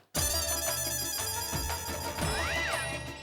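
A phone ringtone plays loudly and steadily over a busy musical background, a repeating electronic melody with no one answering.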